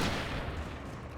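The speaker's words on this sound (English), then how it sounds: "that's what the hunting rifle is for. Extra pew pew" A hunting rifle fires in the horror video game Alan Wake, one loud, booming gunshot that starts at once and rolls off into a fading rumble, with no voices over it.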